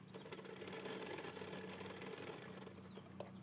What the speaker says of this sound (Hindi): इस तरीके से रखते हुए एक सिलाई लगा लेंगे